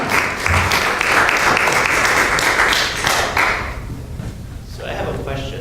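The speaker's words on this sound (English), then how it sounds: "and it is now morally acceptable to applause" Audience applause at an academic colloquium, a steady dense patter of many hands clapping for several seconds before thinning out, with a voice resuming near the end.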